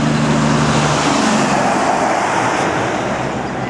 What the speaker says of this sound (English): More traffic.